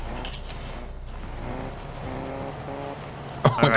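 A car drives in the video game Fortnite, its engine a steady loud droning rumble with rising tonal whine, ending in a brief burst of noise.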